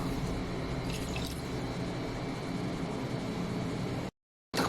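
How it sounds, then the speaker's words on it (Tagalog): Water and vinegar poured into a pan of sautéed pork humba with black beans, a steady broad liquid splashing and fizzing that runs on evenly before cutting off abruptly near the end. "Lagyan na natin ng water para makuluan at lumampot. Sabay na natin ang suka."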